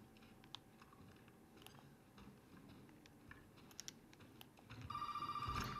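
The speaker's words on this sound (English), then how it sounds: "Jesus, phone." A telephone in the video game Resident Evil 7 starts ringing near the end, a bright trilling ring rising out of quiet ambient noise and scattered clicks.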